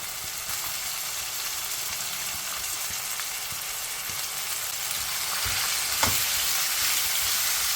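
Bitter gourd frying in a pan gives a constant close hiss of sizzling oil that swells a little toward the end, with a few soft stirring taps and one clearer knock; no voices.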